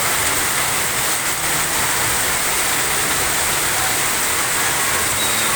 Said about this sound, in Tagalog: Sobrang lakas ng ulan mga kachonggo.